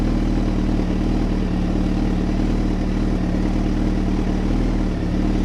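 A Suzuki Hayabusa motorcycle engine runs steadily, close and loud, with an even, continuous droning rumble and no talking.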